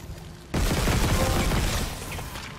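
Automatic gunfire bursts out in Dead Space Remake, a dense, continuous rattling volley that kicks in abruptly and holds loud for about two seconds, with no talking over it.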